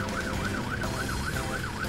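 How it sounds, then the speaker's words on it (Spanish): A cartoon fire truck's siren wails in a fast, regular rising-and-falling pattern, steady and fairly loud over a low rumble with no talking. "F es de Fiona, el camión de bomberos, que los incendios va a apagar."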